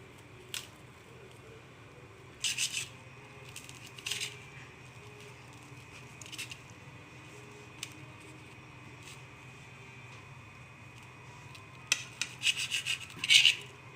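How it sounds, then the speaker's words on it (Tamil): Toasted bread being cut into small pieces with a knife, giving soft rasping scrapes in short bursts near the start and again toward the end, close and fairly quiet, with no talk. "இப்போ டோஸ்ட் பண்ண ப்ரெட்டை சின்னதாக கட் பண்ணிடலாம்."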